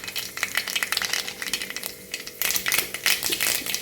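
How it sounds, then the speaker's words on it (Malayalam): Mustard seeds splutter in hot coconut oil in a clay pot for a fish curry. Dense, rapid crackling pops come close and loud, then a brief lull, then another burst. "കടുക് എന്തൊക്കെയായാലും പൊട്ടിയിട്ടുണ്ട്."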